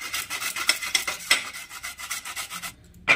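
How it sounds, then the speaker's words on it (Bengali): Raw papaya rubbed against a grater, a close run of quick rasping strokes in a rapid, fairly even rhythm, ending in a short pause before one last scrape. "চলো তাহলে আমি ঘষতে থাকি"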